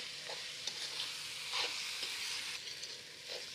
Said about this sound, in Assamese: এতিয়া পিঁয়াজখিনি যিমানখিনি পাৰোঁ মই ভাজি থাকিম